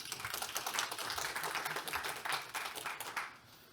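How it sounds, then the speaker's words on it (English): Applause from a small conference audience welcoming a speaker, quiet and fairly distant, with a crisp irregular patter of individual claps fading out toward the end. "Please give him a warm applause"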